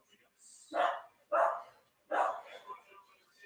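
Dogs bark in the background during a live reaction stream of a Purdue at Notre Dame football game, three loud, separate barks spaced roughly half a second to a second apart, with a voice talking faintly around them.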